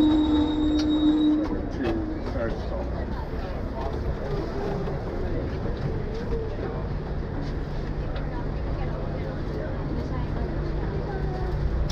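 A heritage W Class tram on Melbourne's City Circle rumbles steadily along its rails with a low droning hum and occasional metallic squeals, close and continuous throughout.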